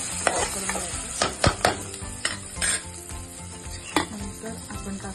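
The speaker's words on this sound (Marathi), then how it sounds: "अशा प्रकारे आपण कांदा आणि टोमॅटो दोन्ही व्यवस्थित फ्राय करून घ्यायचं" Chopped onion and tomato fry in a pan with a steady sizzle, while a spoon scrapes and clanks against the metal in repeated sharp strokes, close and fairly loud.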